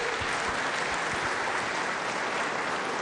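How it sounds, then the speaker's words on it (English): Dense, steady applause fills the West Virginia Legislature chamber, many hands clapping together in a continuous even roar, with no talk heard over it. "let everybody give him a round of applause"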